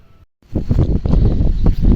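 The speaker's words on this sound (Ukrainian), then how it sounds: "Вийшла я на вулицю вітер страшний" Strong warm wind buffets the microphone outdoors beside a vegetable garden, a loud, dense low roar that starts abruptly after a short silent break and keeps gusting unevenly with no voices.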